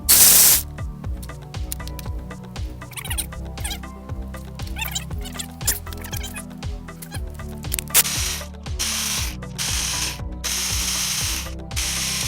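A Milwaukee ratchet clicks rapidly and steadily on the valve cover of a Hyundai 2.7 V6, the sharp pawl ticks sounding loud and close with no talk over them.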